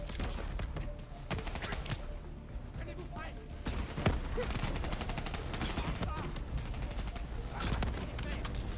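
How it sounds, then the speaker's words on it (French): Gunfire in Call of Duty Black Ops 3 campaign play: rapid bursts and repeated shots cracking from several directions, loud and continuous, with players talking over the action. "je me fais tirer de tous les côtés"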